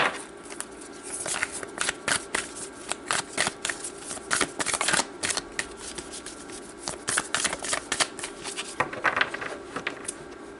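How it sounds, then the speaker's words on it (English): A deck of tarot cards is shuffled close by, with quick bursts of riffling and flicking that repeat in an uneven rhythm for about ten seconds, with no talk over it. "So let's pull some more cards here."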